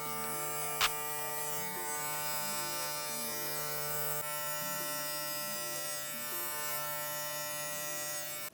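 Hair clippers fitted with a Wezteck blade buzz steadily and close up while debulking the sides of a haircut, holding an even electric hum with one brief click near the start.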